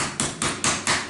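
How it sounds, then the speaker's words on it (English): Meat hammer pounding cubes of venison bottom round and clod, five or six sharp, evenly spaced thwacks in quick rhythm, close and fairly loud with no talking. "with this meat hammer."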